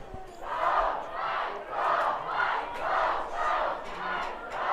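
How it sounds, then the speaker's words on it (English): A high school student section roars during a football game between Klamath Union and the Mazama Vikings, the crowd chanting and cheering in about six rhythmic swells that rise and fall at a moderate distance. "And some student section cheering coming out."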